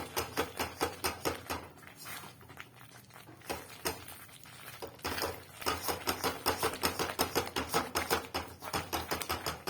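A thickening sandesh mixture is worked continuously in a pan, giving dense, rapid scraping and tapping strokes in a steady rhythm that ease off briefly midway before resuming, close and fairly loud with no talk.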